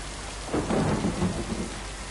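Rain and a rolling rumble of thunder during a lightning storm in the video game Lake, a steady hiss with a loud low swell in the middle, no voices.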